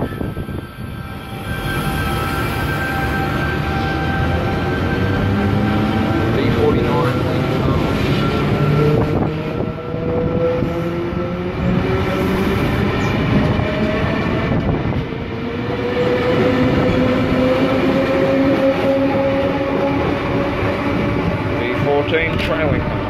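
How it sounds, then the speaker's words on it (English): An 8-car V-set electric passenger train pulls away from Broadmeadow station nearby, its motors whining and rising steadily in pitch as it gathers speed, with wheel and track rumble underneath. "8-car V-set to Sydney Central is now departing"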